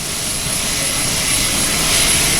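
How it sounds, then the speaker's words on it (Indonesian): A Hercules military transport aircraft's engines drone loudly and steadily, a dense roar with a thin high whine riding on top that builds slightly toward the end. "Pesawat Hercules A1318 juga tiba di Lanut Sultan Iskandar Muda, Aceh Besar, Provinsi Aceh"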